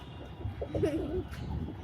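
A pigeon in a pigeon house gives a short soft cooing phrase, close and fairly quiet, over a low background hum.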